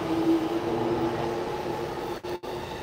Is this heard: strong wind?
no